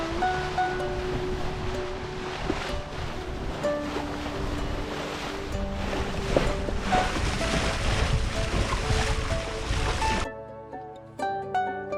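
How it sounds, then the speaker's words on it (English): A sailboat under full sail on the Koro Sea in Fiji, with steady wind rush and water washing against the hull, broad and continuous, dropping away abruptly near the end. "it's just really nice to have all the sails up and to be getting pushed along by the wind."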